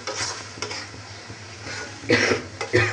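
Tomato chutney stirred in a cooking pan, with scraping and clinking utensil strokes coming in short bursts, loudest near the end, along with a faint cough-like sound.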